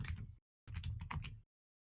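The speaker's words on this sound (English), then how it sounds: "Then you beat the crap at your keyboard. Yeah, It's really loud, isn't it?" Loud, hard computer keyboard typing comes in two bursts of rapid clattering keystrokes separated by a short silence, close to the microphone with no voices.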